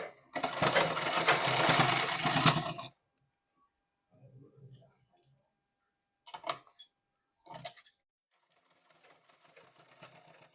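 A sewing machine runs in a loud close burst for about three seconds while double stitching an umbrella frock at home, then falls silent apart from a few faint clicks and fabric handling noises.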